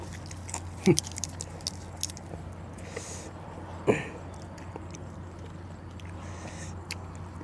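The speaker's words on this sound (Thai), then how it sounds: "จะกินกันแล้ว" Octopus and spicy shrimp salad being eaten outdoors in a rice field, with soft chewing and two sharper crunchy bites heard close, under faint background noise and little talk.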